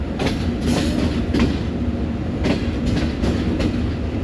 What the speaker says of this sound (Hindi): 7 up Tezgam coat Radha Kishan railway station की लूप लाइन पे आ रही है